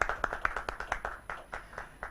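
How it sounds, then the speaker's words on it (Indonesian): Seminar audience applauding in Banjarnegara, a sparse run of individual hand claps, roughly evenly spaced and fairly close, with no talk over them. "Boleh diberikan tepuk tangan yang paling meriah untuk pagi hari ini."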